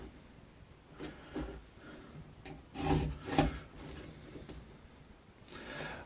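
Small hand saw cutting a wooden blank for a hair comb, several short rasping strokes close by with a louder burst in the middle, no speech.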